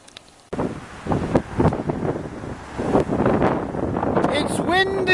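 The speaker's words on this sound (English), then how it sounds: "It's windy!" Wind gusts buffet the microphone outdoors on an autumn day among trees and garden fences, a steady rushing roar that runs the whole clip with a voice speaking over it.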